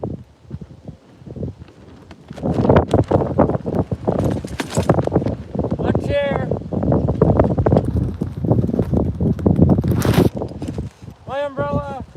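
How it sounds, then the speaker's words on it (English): Gusty wind roars outdoors beside the Red River during a fishing trip, a steady loud rumble of microphone buffeting with rustling, while someone talks over it throughout. "Man, that wind is just blowing everything away here, guys."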